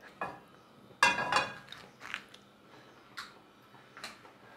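A gas stove burner clicks several times as its igniter sparks before cooking onions and cauliflower, the sharp ticks spaced unevenly and fairly close.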